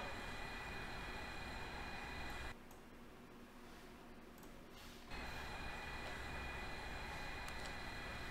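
A Boeing 737-700 takes off in Microsoft Flight Simulator X with a steady, faint engine roar that dips for a couple of seconds and then returns.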